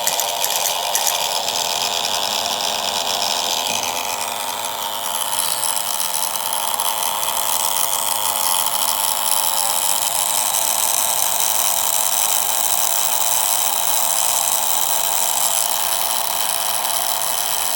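A homemade electrical oscillator rig with a spark gap vibrates in a loud, continuous mechanical buzz that holds steady throughout with no talking.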